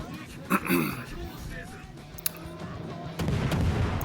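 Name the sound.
naval gunfire in video game World of Warships Legends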